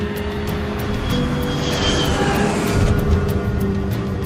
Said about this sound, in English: The plane is just moments from landing in Yaroslavl, a city 250 kilometers northeast of Moscow.